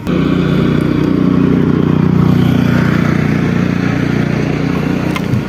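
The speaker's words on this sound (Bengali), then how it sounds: "এই একটা বাইক আসছে" A motorcycle engine drones loudly and steadily throughout on a bridge at night, a close, continuous roar without speech.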